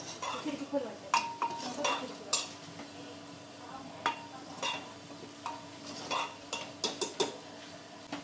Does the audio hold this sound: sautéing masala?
yes